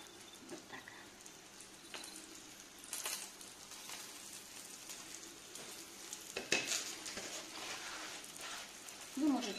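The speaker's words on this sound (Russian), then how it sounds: "И отправлю на сковородку." Steady sizzling and crackling of stuffed dough envelopes frying in a pan, with occasional louder spits and a voice talking over it.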